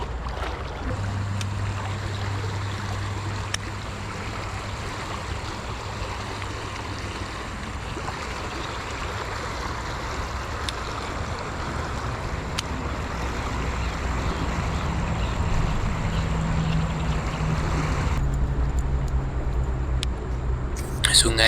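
A river flows below a campsite in Gopeng, giving a constant, fairly loud rushing wash of water throughout.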